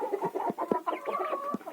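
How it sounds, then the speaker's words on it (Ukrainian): A hen clucks in short, repeated bursts of low clucks and a few drawn-out notes, close by in a dry winter coop, with no talking. "Це що курочка сидить це вона сидить."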